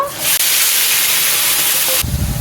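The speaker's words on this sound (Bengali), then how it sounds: "ওই তেলের মধ্যেই চিংড়ি মাছটাকেও ভেজে নেব" Prawns frying in hot oil left from frying potatoes, a loud, close, steady hissing sizzle that cuts off abruptly near the end, replaced by low rumbling clatter.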